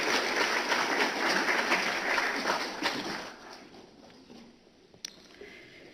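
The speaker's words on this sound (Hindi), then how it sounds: "जोरदार तालियां एक बार और माननीय राष्ट्रपति महोदय के लिए।" Loud, dense applause from an audience honouring the President at an art exhibition opening, sustained for about three seconds before fading into quieter room noise with a few scattered claps.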